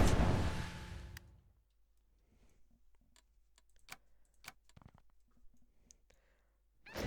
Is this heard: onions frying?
no